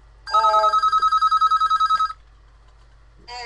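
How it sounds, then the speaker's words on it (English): A telephone bell rings in a loud, rapid trilling burst lasting almost two seconds, then falls silent before a second ring begins right at the end. "And your phone is ringing."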